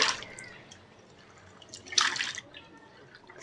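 Washed potato pieces are tipped into a second pot of water in a home kitchen, giving a brief splash at the start and another louder plop with dripping a moment later, close and otherwise quiet.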